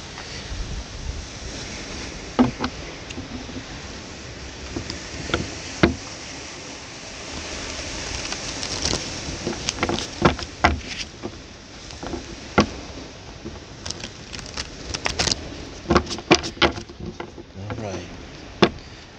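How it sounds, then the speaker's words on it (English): Ocean waves washing onto shore, a continuous surf roar with wind buffeting the microphone and scattered sharp crackles and knocks, moderately loud and close throughout. "Try to be quiet so you can just hear the waves."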